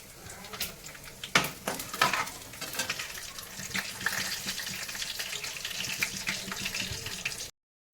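Dried red chillies and cumin frying in hot oil for a tempering make a close, steady crackling sizzle with sharp pops early on, then stop abruptly at the end.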